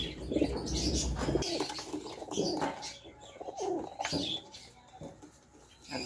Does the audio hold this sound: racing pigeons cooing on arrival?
yes